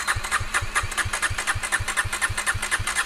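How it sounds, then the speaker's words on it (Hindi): Motorcycle engine idling roughly after being started, a fast steady low thumping pulse with mechanical clatter, close and continuous, on a jungle trail where the bike had trouble starting. "तो साहिल की बाइक को पता नहीं क्या हो गया, स्टार्ट ही नहीं हो रही"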